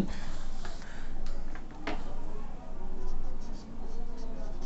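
A pen writing by hand on paper while a math problem is worked out gives a steady, close scratching under a constant background hiss, with brief pauses between strokes.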